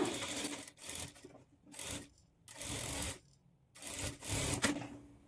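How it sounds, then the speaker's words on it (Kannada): A sewing machine runs in several short bursts of rapid stitching on blouse fabric pieces, close and steady whirring broken by brief pauses, with no talking. "ಇಲ್ಲಿಂದ ನಾವು ರಫ್ ಸ್ಟಿಚ್ ಹಾಕ್ಕೊಂಡು ಸ್ಟಿಚ್ ಮಾಡ್ಕೊಳ್ಳೋಣ"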